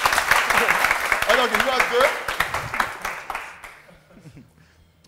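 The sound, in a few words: audience applause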